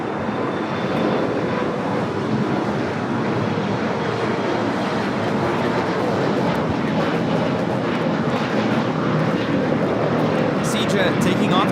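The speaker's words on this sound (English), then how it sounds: "Looks like we have a Flexport 747-400 freighter. We'll be taking off to Hong Kong." Flexport Boeing 747-400 freighter taking off at LAX, a steady, broad, distant jet roar rolling on continuously while a commentator talks over it.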